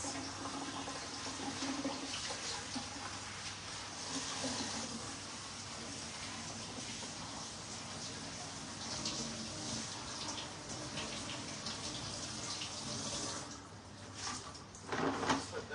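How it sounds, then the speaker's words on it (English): Water trickling and draining from rinsed cos lettuce sitting in a basket in a home kitchen, a steady splashy wash with a few louder clatters near the end. "Sit there and drain off that water"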